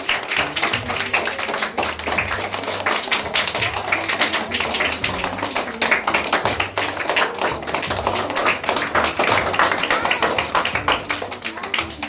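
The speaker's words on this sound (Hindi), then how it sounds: "सभी प्रतिभागियों के उत्साहवर्धन के लिए एक बार जोरदार तालियां।" Sustained applause from a quiz show audience cheering on the participants, dense, steady clapping throughout with no voices standing out.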